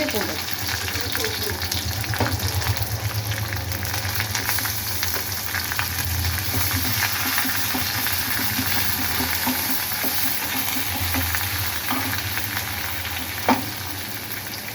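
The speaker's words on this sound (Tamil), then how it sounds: "இந்த வெங்காயம் வந்து நல்லா செவந்துருச்சு இப்போ வந்து நம்ம பச்சை மிளகாய் போட்டுடலாம்" Sliced onions, browned, sizzle steadily in hot oil with green chillies as the base for a mutton dum biryani, a continuous close frying hiss with faint stirring scrapes and one brief clink.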